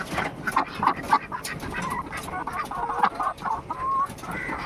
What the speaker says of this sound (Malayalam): അപ്പുറത്തും കുറച്ച് കോഴിയുണ്ട് കേട്ടോ